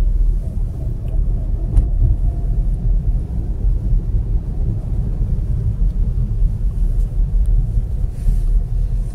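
A car driving across a curving bridge, a steady deep road rumble and low engine drone from inside the cabin, continuous and fairly loud with no clear voices.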